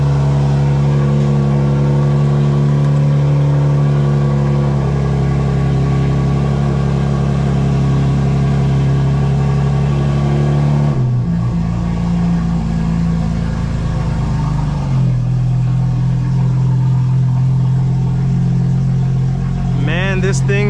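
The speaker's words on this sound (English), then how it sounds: "So let's get this car started up" A 2025 BMW M4 Competition xDrive starts up and settles into a loud, rowdy idle close by, its deep steady drone shifting in pitch as the revs change, with a brief rise near the end.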